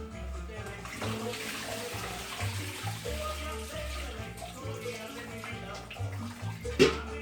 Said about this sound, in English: We're gonna strain those in a colander.